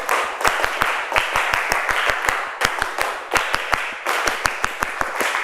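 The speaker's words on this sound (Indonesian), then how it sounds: "sekarang kita coba tepuk komando." Junior high school students in a Nganjuk classroom perform a tepuk komando, sharp unison hand claps struck in repeated rhythmic patterns with brief pauses between groups, close and loud.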